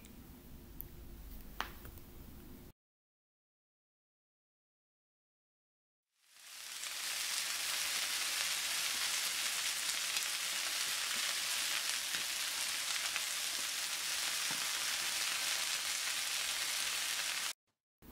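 Steady, loud sizzling of zander fish fillets frying in a hot pan, a broad hissing crackle that runs continuously after a short silence, with no talking.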